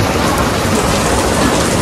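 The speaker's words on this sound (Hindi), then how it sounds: "बारिश पड़ रही है मुंबई में यू कैन सी" Steady, dense rain pours down continuously, a loud even hiss of drops with no voices or breaks.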